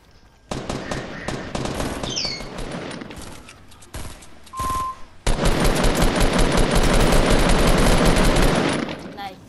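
Automatic gunfire in a Fortnite match: dense, loud bursts of rapid shots, a short lull with a single tone, then a sustained heavy barrage near the end.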